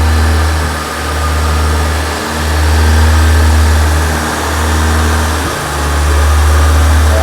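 Diesel engine revving while a carbon-clean spray is fed into the intake, a loud steady drone rising and falling in a few slow swells, near and unbroken.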